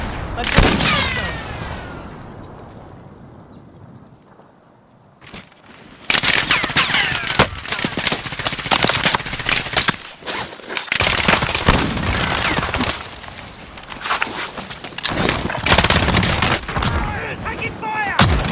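Video-game gunfire in a multiplayer shooter, dense bursts of rapid automatic shots and single cracks that keep up for most of the stretch after a brief quieter lull, with voices calling out between.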